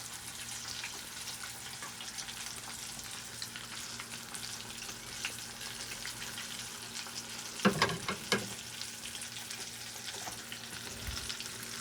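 Chicken for a KFC-style fried dish frying in a pan, giving a continuous soft sizzle with a few louder clatters near the end and no talk.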